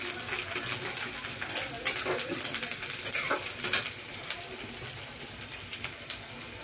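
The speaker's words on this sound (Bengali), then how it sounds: "পেঁয়াজটা বেশি ভাজবো না, লালও হতে দেবো না।" Onion frying in a pan, a steady close sizzle with crackling bursts and occasional stirring scrapes, no voices.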